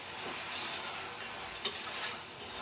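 A spoon stirs softened tomatoes in a hot pan for a dry fish curry, close scraping and soft sizzling, with two louder strokes against the pan.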